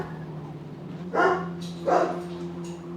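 Two sharp barks from Denali, a young puppy, spaced under a second apart, close and fairly loud above a constant low background hum.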